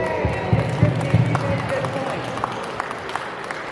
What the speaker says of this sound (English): Y'all clap it up for him.